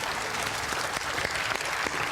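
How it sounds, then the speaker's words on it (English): A studio audience at a magic-trick game show applauds, dense continuous clapping, fairly close and steady throughout with no voices over it. "Give a round of applause for doing that"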